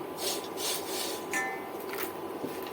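Popcorn tipped into a pan and stirred with food colouring, faint scraping and rustling with a few light clinks, close and quiet, without voices.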